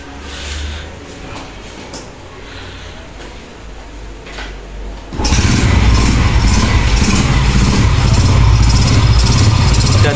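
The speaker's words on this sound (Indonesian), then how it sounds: "ada motor Jupiter Jet. Nah, jadi dia mengalami tidak bisa langsam dan seperti nahan untuk suara mesinnya ya." Yamaha Jupiter Jet motorcycle engine with a rough, hesitant note, first idling unevenly, then revved hard halfway through into a loud, sustained, gritty roar close to the microphone.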